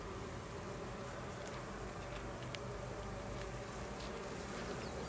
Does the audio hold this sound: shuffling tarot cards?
no